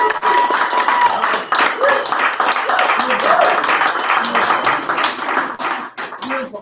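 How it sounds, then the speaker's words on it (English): Audience clapping and applause for a poet at a live weekly poetry night in a cafe, with a close, busy patter of hands, uneven and crowded, and voices talking over it. "Let's have another applause for Toby."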